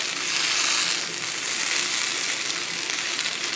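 Potatoes frying on low heat in a skillet, giving a steady, close, bright sizzle that holds evenly throughout with no talking.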